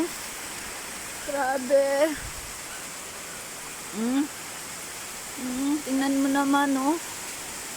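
Heavy rain pours onto a house roof amid strong wind, a dense, steady roar that fills the whole stretch while a person speaks over it in brief bursts.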